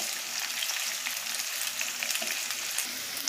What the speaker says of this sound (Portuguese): Eu comecei adicionando então aqui a calabresa para dar uma dourada.